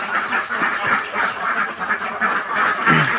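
Ducks quack in a busy, overlapping chorus while they eat broiler feed. The calls come from close by and carry on steadily with no talk.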